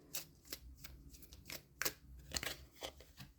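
Tarot cards being shuffled in quick, crisp riffles and slaps, close and fairly quiet, with no talking.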